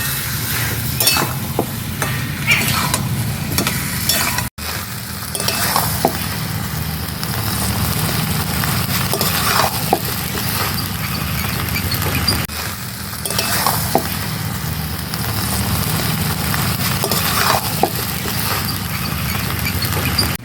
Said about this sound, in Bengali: আলু দিয়ে এবারে আমি ভালো করে কষিয়ে নেব।